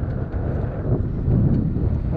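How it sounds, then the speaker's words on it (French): Wind roars and buffets the microphone aboard a sailboat beating close-hauled, a loud, continuous rush that swells slightly toward the end. "ce qui fait que le vent est monté"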